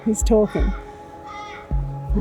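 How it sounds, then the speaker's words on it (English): A black crow flying over caws a few harsh, close calls in quick succession at the start, with people talking nearby. "black crow is flying over"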